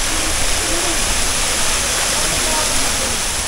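Natural spring water gushes steadily at a resort bathing spot, a loud, constant, close rushing wash with no breaks.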